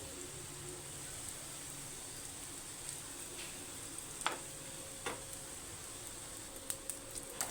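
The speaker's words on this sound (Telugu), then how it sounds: "ఒక్కొక్కటిగా ఈ పీసెస్ ఇలాగా వేయించేసుకుందాం సిన్లో పెట్టి వేయిస్తే చక్కగా వేగుతాయి" Bread pieces frying in a pan on a low flame, a faint steady sizzle with occasional soft ticks and pops scattered through.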